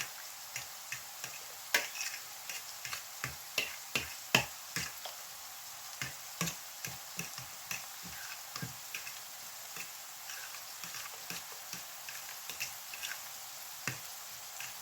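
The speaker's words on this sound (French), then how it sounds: "Je mets un tout petit peu et je mélange comme ça" Spaghetti omelette mixture with a little black pepper being stirred in a bowl, giving a steady run of soft, wet clicks and taps at close range, alone with no talk.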